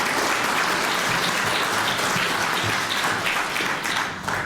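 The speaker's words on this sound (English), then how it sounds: "can we have a round of applause for Jean?" A conference audience in Dunblane gives a sustained round of applause, a dense, even roar of many hands that fades slightly near the end.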